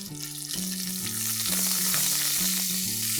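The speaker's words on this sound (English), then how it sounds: "So let's add the Thai green curry paste and saute it for a minute." Thai green curry paste sautes in hot oil with a steady, loud hiss of frying that runs throughout, while a low tonal hum pulses underneath.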